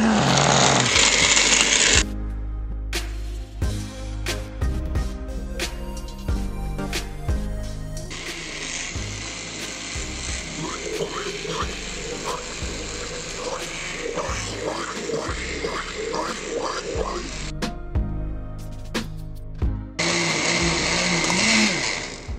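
A kitchen blender whirs loudly as it purees an avocado smoothie, starting with a harsh high spin, settling into a churning lower grind with rhythmic chopping pulses, then pausing briefly and revving back up again.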